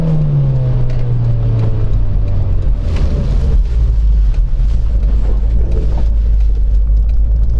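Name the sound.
2008 Mazda MX-5 Miata engine driving in snow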